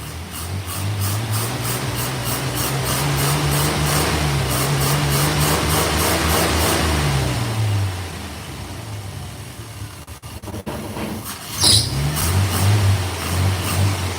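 A 1986 Chevrolet Silverado's engine idling rough and stumbling, a loud, close low drone that wavers unevenly, dips after several seconds with a brief rattle and clunk, then picks back up.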